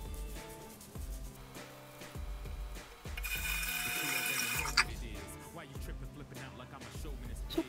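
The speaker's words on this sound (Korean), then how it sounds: "나머지는 비누로 손톱을 이용해서 긁으면서 씻어주세요" Makeup brushes are scrubbed with soap under a running tap at a bathroom sink, with steady water flow, a louder gush midway and scattered wet rubbing and clicking sounds.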